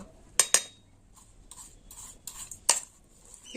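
Papaya curry ingredients being mixed in a bowl with a spoon, a few sharp metallic clinks and scrapes separated by quiet pauses, close up.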